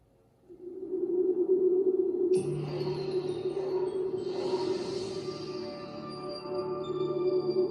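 The Warner Brothers 75 years logo music swells from near silence into a sustained, resonant drone, with shimmering higher tones layered in a couple of seconds later and holding steady to the end.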